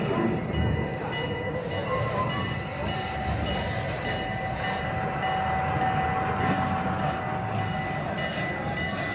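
The Serengeti Railway ride train at Busch Gardens rolls along with a steady rumbling hum and faint clatter, a soft tonal whine running through it, heard from aboard throughout.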